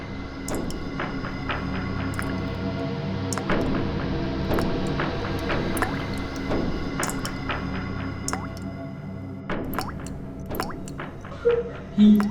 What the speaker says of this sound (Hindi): कुछ टपकने की आवाज आ रही है ना? मगर ये टपकने की आवाज आ कहाँ से रही है? शायद किचन से आ रही है।